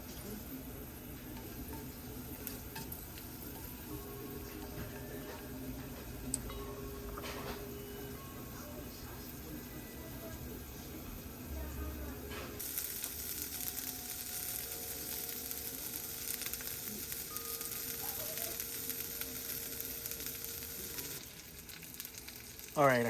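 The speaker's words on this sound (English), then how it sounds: "I have my onions sauteing here" Onions sautéing in a pan for spicy Korean noodles give a steady, close frying sizzle that runs the whole time, rising slightly louder partway through, with faint kitchen clatter and no talk.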